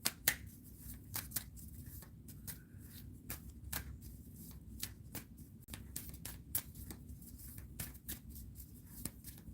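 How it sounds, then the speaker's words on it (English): Tarot cards are shuffled close by in a quiet room, a run of crisp, irregular riffles and slaps repeating for nearly ten seconds, soft and alone. "All right, I'm shuffling now."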